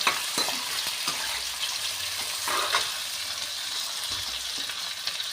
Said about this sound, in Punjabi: ਆਪਾਂ ਜਿਹੜੇ ਵਿੱਚ ਪਿਆਜ਼ ਐਡ ਕਰ ਦਾਂਗੇ